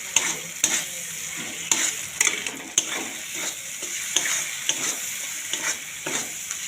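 Tomato masala for a rohu fish curry sizzles in a pan. A spatula scrapes and stirs it in repeated strokes over a steady frying hiss, close and moderately loud.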